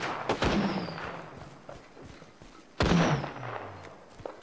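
Gunfire in the video game Apex Legends: two loud bursts of shots with booming impacts, one near the start and another around the three-second mark, each trailing off into a fading rumble.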